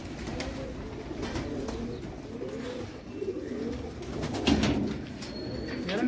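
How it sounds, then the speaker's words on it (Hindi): Pet pigeons in a loft cooing repeatedly in soft, rolling phrases, with a few faint bird chirps around them. "और ये उड़ा हुआ कबूतर है, ये देखें।"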